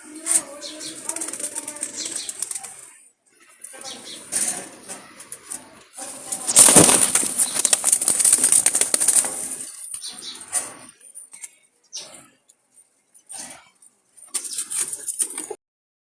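Jalali pigeons flutter and flap their wings in short bursts, with a loud rush of wingbeats midway and soft cooing and rustling around them, close by.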